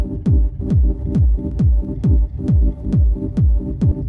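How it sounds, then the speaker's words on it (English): Dub techno synth chords from an Ableton session, repeating in a steady pulse with a delay effect, each hit a low swooping thump with a short ringing tail, about two per second, loud and alone. "I'm gonna add a delay now."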